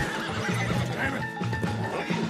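A horse in the video game Red Dead Redemption 2 neighs and whinnies loudly and close, with some hoof clatter mixed in.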